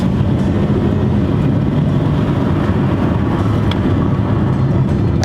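A tuned 2015 Chevy Cruze engine with failing seals runs with a loud, steady droning rumble throughout, close and continuous, with no distinct rev peaks.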